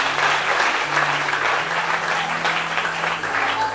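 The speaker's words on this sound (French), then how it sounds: "Acclamons pour le roi" Applause from a church congregation at a Sunday service, loud, dense and sustained for the whole stretch, with a faint steady hum beneath it.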